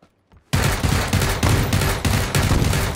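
Dense automatic gunfire from a submachine gun in PUBG (PlayerUnknown's Battlegrounds), erupting after a brief quiet moment and hammering on loudly and continuously in rapid bursts for the rest of the moment.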